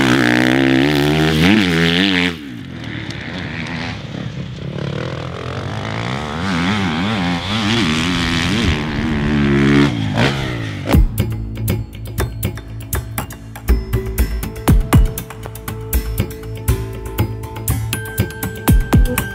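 A Triumph TF250X 250cc four-stroke motocross bike engine revs hard and rises in pitch, drops to a lower buzzing drone, then fires off sharp rhythmic pops and revs.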